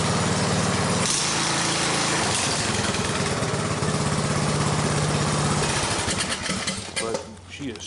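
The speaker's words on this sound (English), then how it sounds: "Let me go ahead and crank it just for a second. And it runs okay." A Briggs & Stratton Craftsman small engine with gas-diluted oil cranks and runs, a loud close buzzing drone that holds steady, wavers, then drops off toward the end.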